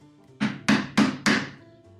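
Chisel struck into wood on a table saw stand, four sharp, evenly spaced knocks close by with a short woody ring after each.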